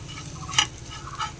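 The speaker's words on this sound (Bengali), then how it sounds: "এক চামচ হলুদ, 1 চামচ লঙ্কা গুঁড়ো দিয়ে নাড়াচাড়া করে" A fried mixture seasoned with turmeric and chili powder is stirred in a pan for egg chops, with a soft background sizzle, one sharp scrape of the spoon midway and a fainter scrape near the end.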